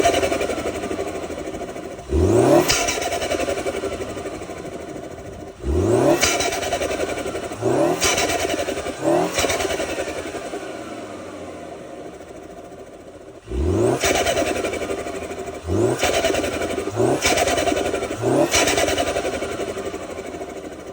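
A 2016 BMW X1 engine fitted with a new intake, revved repeatedly in sharp blips that rise and fall back to idle, about eight bursts, loud and close.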